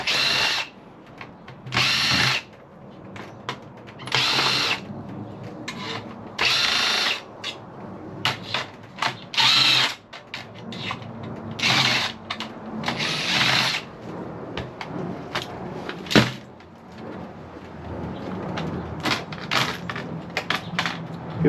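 A power drill undoes screws on e-waste while a motherboard is removed. Repeated whirring bursts of a few seconds each are heard up close, stopping and starting, with clicks and rattles of parts in between.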